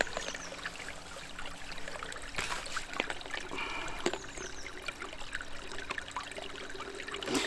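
Water trickles and pours steadily onto YFOOD Alpine Chocolate powder outdoors, a continuous soft splashing stream with small bumps and clinks throughout.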